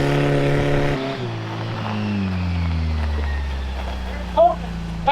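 A Ford F250 pickup loses traction on an icy canyon hill, its engine droning and then falling in pitch as the revs drop. A low steady rumble follows, with a brief clatter near the end.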